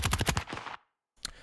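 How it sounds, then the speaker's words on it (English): Designed gunshot sound for Modern Warfare with layered game-style processing: a rapid burst of several sharp cracks fading into a short tail, a brief silence, then one more punchy shot. "it's kind of like adding a layer of like video game processing to this whole gunshot sound"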